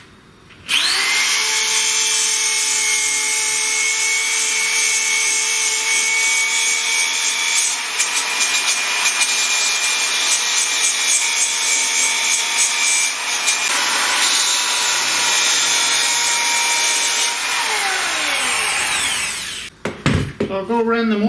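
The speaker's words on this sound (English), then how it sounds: "I've just got a rotary abrasive pad that does a pretty good job" A rotary abrasive pad powered by a tool grinds and smooths the edges of CNC router parts, making a continuous loud whine that runs for about twenty seconds before stopping abruptly.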